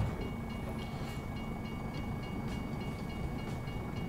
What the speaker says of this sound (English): sounds like a train crossing, as level crossing somewhere as well